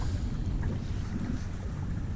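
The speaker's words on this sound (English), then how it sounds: "Wind's blowing like crazy and it's cold." Steady cold wind roars and buffets the microphone outdoors while bass fishing, a continuous low rumble with a hint of water and boat motion underneath.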